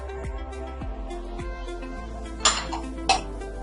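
A metal spoon clinks twice against a bowl while spices such as garam masala are mixed into a sweet-and-sour raw mango chutney, with sharp, close clinks standing out over a quiet kitchen background.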